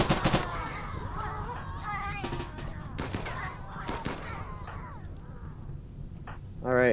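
Fireballs launched in the Rimworld video game, heard as a rough, busy stream of thumps and bursts of impact, with several sharper pops under a steady noisy bed and a louder burst at the very end.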